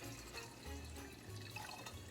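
Sorrel drink poured through a funnel into a bottle, a steady low gurgling liquid stream running throughout, close and continuous with no talking.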